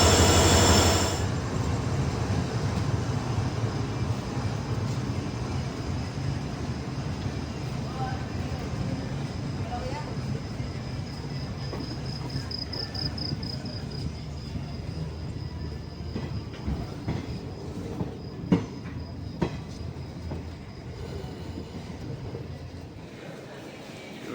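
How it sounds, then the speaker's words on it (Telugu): A passenger train hauled by a diesel locomotive on a line near Nandyal, heard as a loud, steady rolling rumble with rattling wheels and a few sharp clanks, continuous for the whole stretch. "ఇదే మన ట్రైన్ని పుల్ చేస్తున్న డీజిల్ లోకోమోటివ్"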